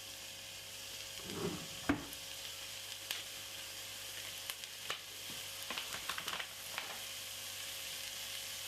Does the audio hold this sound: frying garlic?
yes